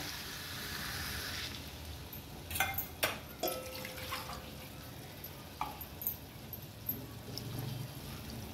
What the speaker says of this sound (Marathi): याच्यात पाणी टाकून घ्यायचे आपल्याला